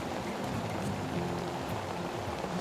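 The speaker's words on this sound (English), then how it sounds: "It's gonna rain like crazy." Rain falling steadily on a hunting blind in a field, a dense, even hiss of drops heard from inside, with a faint low tone running under it.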